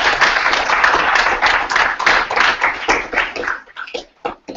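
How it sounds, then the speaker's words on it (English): Freshman students clapping in a video meeting make a busy, compressed patter of many hands that thins into a few scattered claps before fading out. "Big round of applause."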